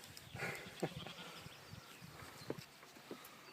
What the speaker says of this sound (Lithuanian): Čia, kur avis ganosi.